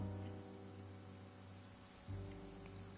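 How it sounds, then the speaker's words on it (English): Steady rain falling in the video game Genshin Impact, a soft continuous wash over a low background drone, faint and unbroken with no voices. "It's raining."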